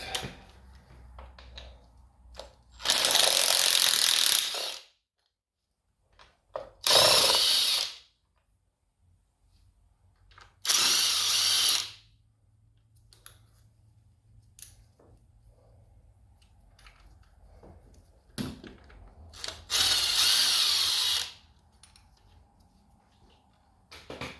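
A power tool removes the inner primary bolts on a 1997 Harley-Davidson Road King, four loud close bursts of whirring drilling, each a second or two long, separated by quiet pauses with small clicks.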